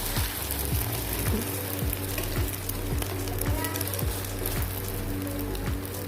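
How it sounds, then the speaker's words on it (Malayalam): An egg frying in oil in a hot pan gives off a steady, loud sizzle with dense crackle throughout, along with a few rhythmic low knocks, and no voices are heard. "ചട്ടി ചൂടായതിന് ശേഷം കുറച്ച് എണ്ണ ഒഴിച്ചു, മുട്ട ഒഴിച്ചു. അതിതാ നന്നായിട്ട് ഫ്രൈ ആയി വരുന്നു."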